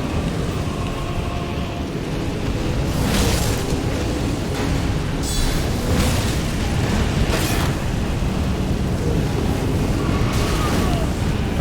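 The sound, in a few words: big explosion in Elden Ring video game, Rykard fight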